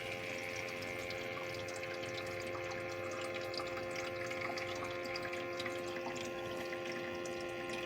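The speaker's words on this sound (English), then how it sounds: "You'll hear it fill up the water, the little ice trays." A countertop nugget ice maker pumps water into its ice trays with a steady low hum and a faint trickle, quiet and continuous, with nobody speaking.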